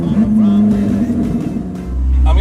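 A Koenigsegg Jesko supercar engine hums steadily while driving, rising into a louder, deeper roar near the end.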